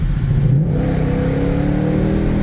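A Ford GT500 engine pulls hard through third gear on a straight, its loud, steady revving note rising continuously for a few seconds with no one speaking.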